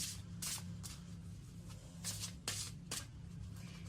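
Tarot cards being shuffled by hand come as soft, quiet riffling bursts, several brief swishes spaced irregularly over a faint steady hum, with no speech.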